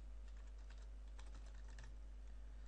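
Rapid clicks of computer keys being typed, steady and close, over a constant low electrical hum with no talking.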